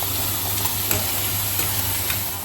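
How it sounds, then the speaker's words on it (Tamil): Meat for a burger frying in a hot pan as it is turned over, a loud, close, continuous sizzle with a few soft stirring and scraping touches and no talking. "இறைச்சியை நாங்கள் பிரட்டி விடுறோம்"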